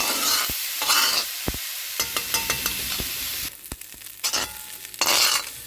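Ivy gourd thoran being stirred and tossed in an iron pan, with intermittent hissing sizzle bursts, scraping strokes and occasional metallic clinks, close and moderately loud.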